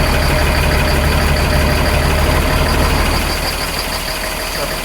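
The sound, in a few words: truck engine idling while warming up in freezing weather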